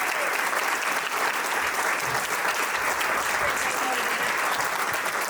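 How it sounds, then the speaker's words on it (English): Steady, dense audience applause after a panel discussion at a real estate business event, even and sustained throughout with no breaks, heard from within the crowd. "let's give another round of applause"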